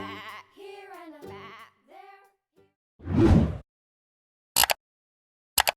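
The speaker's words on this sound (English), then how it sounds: "And on his farm he had some sheep" A sheep bleats once in a short, loud burst within an Old MacDonald farm song, following sung lines and followed by a couple of brief clicks.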